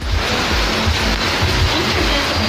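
Flood water splashes and churns loudly and continuously, close by, as a dense rushing wash with a low rumbling undertone.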